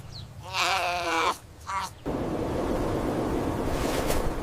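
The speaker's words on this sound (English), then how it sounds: "This is a small brown farm lamb." A small brown farm lamb bleats twice close by, one long wavering cry followed by a shorter one, then steady wind and rushing background noise take over.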